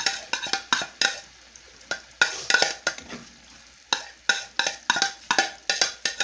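Scrambled eggs are stirred in a pan with a utensil. Quick scraping strokes repeat in an irregular rhythm, close and clear, over a faint sizzle.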